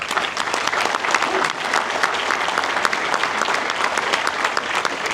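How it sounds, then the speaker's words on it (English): A live audience at a community leadership event in Bastrop, Louisiana applauds loudly and steadily, a dense wash of many clapping hands close by that holds its level from start to finish, with faint voices mixed in. "How about a round of applause for these folks?"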